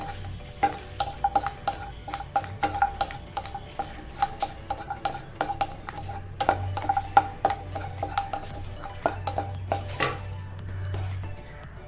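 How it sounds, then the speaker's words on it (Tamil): Fried cashews scooped from a pan onto a plate while making ragi palm-jaggery halwa, heard as many sharp metallic clinks and taps of a spoon against cookware, irregular and close, with a low background hum. "முந்திரியை வறுத்து எடுத்துக்கிறேன் நான் ஒரு பிளேட்டில் எடுத்துக்கிறேன்"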